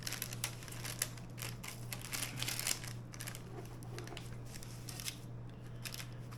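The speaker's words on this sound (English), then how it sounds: "I got the next best thing. Pair of scissors." Scissors snip through a homemade pizza crust, with a run of close, crisp crunching cuts over a steady low electrical hum.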